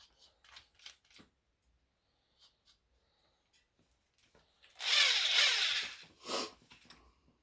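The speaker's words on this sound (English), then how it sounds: "Grab your trusty drill." A short burst of broadband whirring from an electric drill with a small bit spinning up for about a second, then a brief second burst, with quiet ticks and clicks around it.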